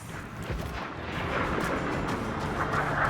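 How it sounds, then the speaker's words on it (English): Ship-mounted mortar fire and cannon booms in the pirate naval game Assassin's Creed Black Flag, a dense low rumble of blasts and roaring water that stays loud and continuous through the short stretch. "Loose another mortar."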